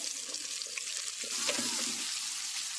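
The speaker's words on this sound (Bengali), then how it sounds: "এবার ওই মাছ ভাজার তেলে আমি আলু দিয়ে লাল লাল করে আলুগুলো ভেজে নেব" Potatoes sizzle and crackle in hot oil left from frying fish nearby, the hiss swelling slightly partway through.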